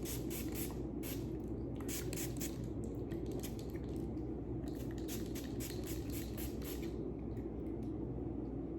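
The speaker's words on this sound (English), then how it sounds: "spray leaves, roots, and growing media once per week, taking care to avoid flowers. So just get a good spray." A hand spray bottle mists an orchid's leaves and roots, giving a run of short hissing squirts in quick succession over a steady background hiss, close to the microphone, with no talking.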